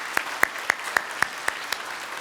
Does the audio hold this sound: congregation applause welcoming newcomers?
yes